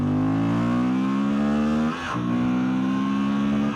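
Honda Transalp 750 motorcycle engine on its stock exhaust, a loud, steady close-up drone with a strong even tone and a brief dip and recovery midway, as if blipped, with no talking.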